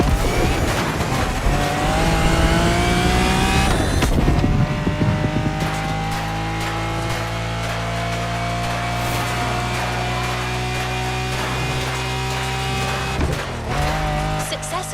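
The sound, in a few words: Lamborghini Countach 5000 Quattrovalvole engine in video game The Crew Motorfest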